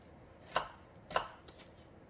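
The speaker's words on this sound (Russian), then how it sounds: "Затем берем лук и режем его" Knife chopping onion on a board: two sharp, distinct cuts about half a second apart, followed by a softer third stroke, close and clear with no talking.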